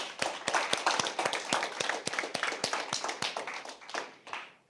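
A small audience applauds the debaters at the close of a debate round, giving fairly quick, separate claps at a moderate distance that taper off near the end.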